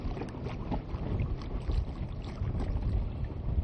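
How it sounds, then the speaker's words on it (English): Small dinghy puttering around an anchorage among rock formations near Ko Phi Phi Don, with a steady low outboard drone and churning water wash mixed with light wind noise, close and continuous. "we're just kind of poking around in the dinghy"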